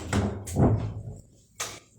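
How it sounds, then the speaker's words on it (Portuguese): A door is closed and the wind knocks it, giving a few dull thumps and bangs in quick succession, followed after a short pause by another sharp knock, with some nearby movement in between. "E o vento está batendo na porta."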